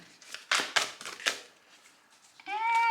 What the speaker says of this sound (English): I have to shuffle them for you guys